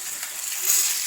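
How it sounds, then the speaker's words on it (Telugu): Fish frying in oil in a pan, a short burst of bright, close sizzling hiss that swells slightly as the piece is turned. "మళ్ళీ టర్న్ చేస్తున్నా. అట్లా 2-3 మినిట్స్ ఒకసారి టర్న్ చేస్తుంటే మంచిగా ఫ్రై అవుతుంది"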